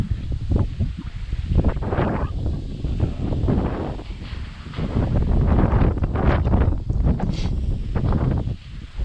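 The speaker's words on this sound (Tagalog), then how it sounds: "ang lakas talaga ng hangin" Strong wind roars and buffets a microphone in heavy gusts while a DJI Mini 3 drone flies outdoors, loud and continuous, with a rustling, flapping texture and no voices.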